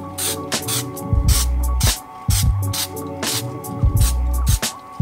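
Custom Jordan 1 sneakers being spray painted, with repeated short bursts of airy spray hiss, several in quick succession, each ending with a low thump, close and fairly loud.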